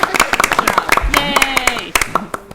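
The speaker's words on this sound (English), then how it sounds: "We should clap." A few people clap at a board of education meeting, sparse, distinct hand claps in uneven rhythm, with voices talking over them.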